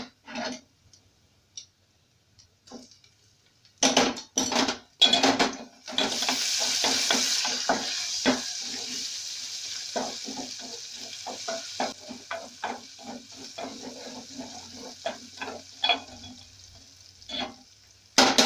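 Ginger and garlic hit hot oil in a pan after browned ingredients, starting a steady sizzle overlaid with repeated close scraping and clicking of a utensil stirring, fading toward the end.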